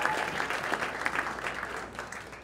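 Audience at a startup pitch event in a tech village applauding, a steady, moderately distant wash of many hands clapping that continues without talk.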